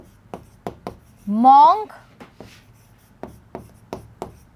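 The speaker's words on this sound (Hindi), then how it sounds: "यहां लिख दूं" Pen or chalk strokes on a board or page during a biology lesson on plant mineral nutrition, a series of short scratchy marks in bursts, with a brief sung-like voice phrase in the middle and a spoken word.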